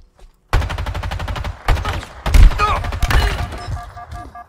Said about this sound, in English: I shot at the bot's body and then I went for the headshot?